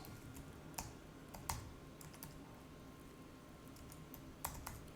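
A run of computer keyboard keystrokes while a track name is typed in Pro Tools, with irregular taps and a few sharper clicks close by against a quiet room hum.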